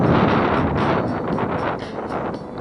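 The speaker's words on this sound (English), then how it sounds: "It's very windy, so I hope you can hear me over this wind." Strong gusty wind buffeting the microphone beside a canal, a loud rough roar that rises and dips in surges throughout.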